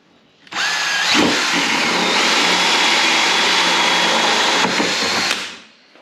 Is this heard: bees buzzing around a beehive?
no